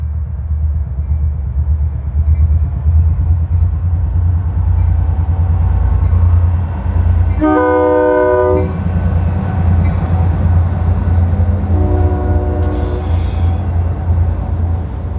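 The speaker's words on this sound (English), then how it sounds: "we caught a local train navigating the famous Old Fort Loops" A heavy local freight train rumbles past steadily on the Old Fort Loops of the former Southern Railway Murphy branch, sounding two long horn blasts partway through, loud and close.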